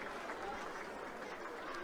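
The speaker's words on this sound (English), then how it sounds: "A generous round of applause from the crowd for them as well" A school crowd applauds after the cup final, a steady faint wash of clapping and chatter at a distance.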